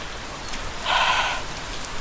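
Steady rain falling outdoors, a soft continuous hiss that swells briefly into a brighter, denser patter midway before easing back, with no voices.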